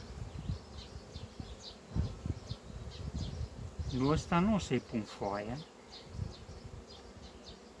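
Honey bees buzz steadily around a hive frame in a small two-frame queen-rearing colony, a close, continuous hum beneath a man's speech, with a brief higher warbling tone in the middle.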